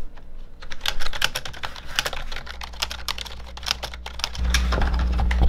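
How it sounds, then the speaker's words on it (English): Rapid typing on a cheap dollar-store membrane computer keyboard, a dense, continuous patter of soft key clicks close up with no talking. "Just do some typing."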